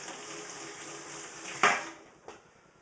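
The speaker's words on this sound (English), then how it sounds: "let me wash my spoon here" Tap water runs steadily as a spoon is rinsed under it in a kitchen, with a sharp clink of metal partway through and a fainter knock just after.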